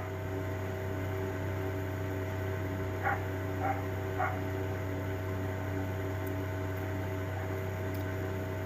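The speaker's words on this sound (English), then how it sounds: "the dog is he's barking at the other dog" Three quick barks from a dog at another dog, somewhat distant, over a constant electrical hum and steady background noise.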